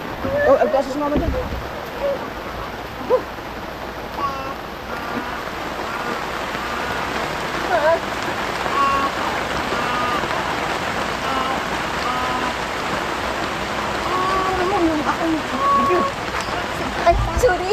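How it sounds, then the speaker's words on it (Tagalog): Steady rain falls in a dense, continuous patter on surfaces nearby, with occasional faint voices beneath it. "Ulan!"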